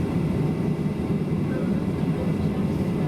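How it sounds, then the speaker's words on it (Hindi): An airplane at Cusco airport, the nearest to Machu Picchu, rumbles with a steady low engine roar heard from inside the cabin, continuous and fairly loud without clear talk. "विमान निश्चल हुआ।"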